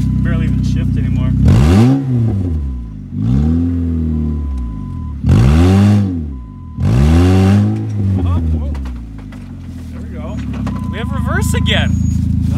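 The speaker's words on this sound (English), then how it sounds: "let's do a burnout with it." Ford Fusion car with a failing, smoking transmission revving hard through a burnout: four loud, rising-and-falling engine revs with pauses between, close by.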